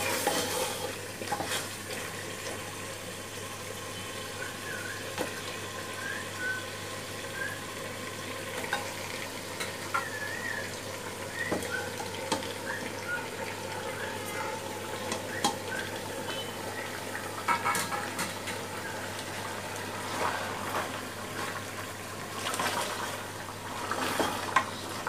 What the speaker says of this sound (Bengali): মাংসগুলো দিয়ে ভালো করে নেড়ে নিতে হবে।